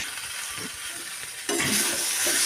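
Cauliflower pieces fry with tomato in a pan, making a steady close sizzle that turns louder and fuller about halfway through, with light stirring and no voices.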